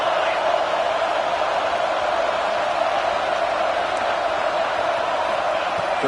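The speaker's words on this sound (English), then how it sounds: "Listen to the crowd energy here in the early going." Stadium crowd at a Utes college football game, a dense, steady roar of many distant voices blending into one continuous wash of noise.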